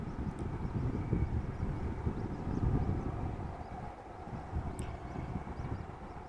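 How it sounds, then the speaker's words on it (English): An Air Baltic Airbus A220 in a special Estonian flag livery, arriving from Riga at Amsterdam Schiphol on runway 06, gives a steady broadband jet roar that holds at moderate loudness throughout, with wind buffeting the microphone. "So A220 arriving from Riga, Air Baltic."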